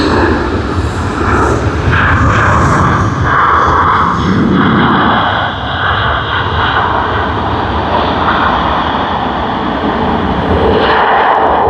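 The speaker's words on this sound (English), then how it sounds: "We can hear the thrust reverses." Singapore Airlines SQ221 jet from Singapore landing at Sydney Airport, thrust reversers roaring: a loud, sustained broadband rumble and whine held steady for the whole stretch, heard from a distance outdoors.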